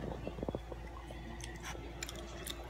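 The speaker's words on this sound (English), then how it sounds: "eating fries that my parents brought us" Close, quiet chewing of In-N-Out fries, with a few soft crunchy bites early on, then faint mouth sounds over a low steady background hum.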